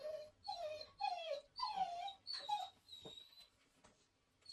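A dog gives a series of short, high whimpering yips and barks, about five in a row, close by, then trails off into quiet.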